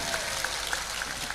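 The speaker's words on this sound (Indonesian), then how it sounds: "Tepuk tangan tuh Mas Charlie." Audience at an evening religious gathering applauds for an honoured guest, a fairly soft, steady patter of clapping with crowd murmur beneath.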